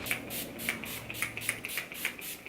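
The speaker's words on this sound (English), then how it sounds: "Final step is the setting spray, so let's shake it up." A makeup setting spray fires a series of short, sharp hisses in an even rhythm, about eight quick bursts, close and fairly quiet.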